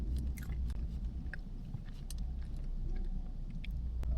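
Someone takes a bite of food and chews up close, giving moist crunching and mouth sounds over a steady low rumble in the background.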